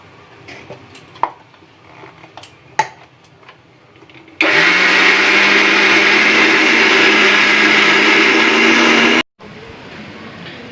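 Electric mixer grinder running steadily for about five seconds, blending urad dal with green chili and ginger into a paste, loud and continuous with a low motor hum, preceded by faint kitchen clatter and followed by quiet room tone.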